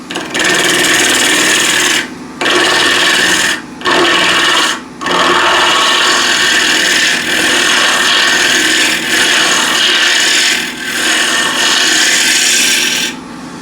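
A bowl gouge cuts into wood spinning on a lathe in a steady, loud, close-up rasping hiss. The cut breaks off briefly several times and then resumes.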